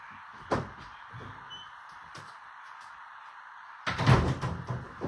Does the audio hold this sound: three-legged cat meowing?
no